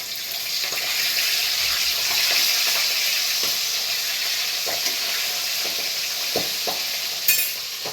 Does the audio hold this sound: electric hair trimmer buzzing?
no